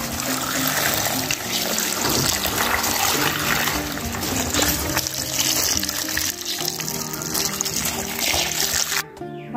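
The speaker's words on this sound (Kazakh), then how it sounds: "Осылай ағынды судың астында да қайта-қайта жуып аламыз." Cucumbers are rinsed again and again under running tap water for pickling, a constant close splashing gush that cuts off just before the end.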